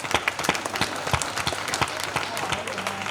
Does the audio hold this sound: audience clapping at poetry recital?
yes